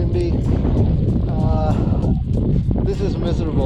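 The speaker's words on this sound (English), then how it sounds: "It's unbelievably cold and windy." Strong, cold wind buffets the microphone during a motorcycle ride on the Dalton Highway in Alaska, a loud, continuous low roar with a voice talking over it throughout.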